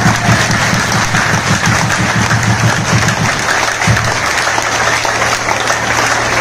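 Strong applause from attendees greeting the opening of a seminar in Rohtak, dense and steady throughout with a low droning hum underneath, close and loud.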